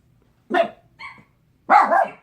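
A tiny dog growls and gives short yappy barks: one sharp bark, a brief higher yip, then a longer growling bark-run, close and loud in a quiet room.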